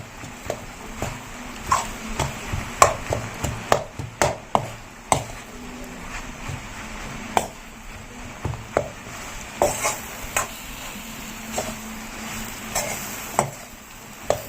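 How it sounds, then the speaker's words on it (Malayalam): Bread pieces stirred together with egg in a pan for homemade bread kothu, giving a run of repeated scraping and tapping clicks at an uneven rhythm, fairly close and moderately loud, with no talk. "ഇനി ഇതെല്ലാം കൂടെ നമുക്കൊന്ന് മിക്സ് ചെയ്തെടുക്കാം"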